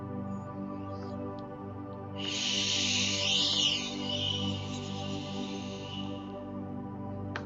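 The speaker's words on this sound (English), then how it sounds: "I'd like you to add a SH sound to your exhale" A breathy, hissing "sh" exhale lasting about four seconds, rising then fading, with a faint steady hum underneath.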